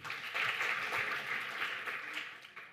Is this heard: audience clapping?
yes